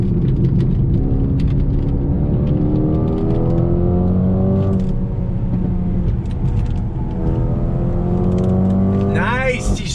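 2020 Mercedes-AMG A35 sedan accelerating hard on throttle, engine pitch climbing through several gear changes under continuous road and cabin rumble, loud and close, with a person talking over it.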